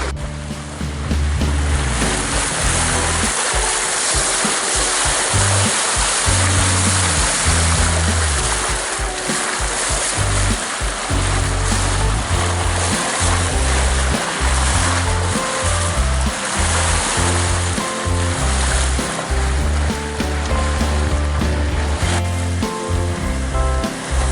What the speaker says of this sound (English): making that lovely swishing sound as the bow cut through the water